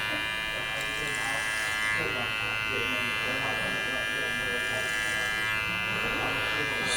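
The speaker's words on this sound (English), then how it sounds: "this is where I will do clipper over comb" Hair clippers buzz continuously in a barbershop, cutting clipper over comb to smooth a fade, a steady close electric hum with faint snipping texture and a voice talking underneath.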